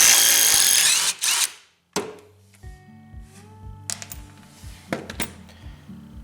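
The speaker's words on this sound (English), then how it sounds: "So we take off this 17mm nut here." A power tool whirs loudly on a 17mm nut on a Yamaha Blaster for over a second, then cuts out, followed by lighter mechanical clicks and tool handling nearby.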